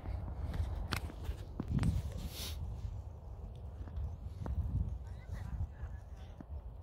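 Horses walking on a trail, several hoof clip-clops scattered through steady outdoor background noise, with a few sharper knocks and occasional voices nearby.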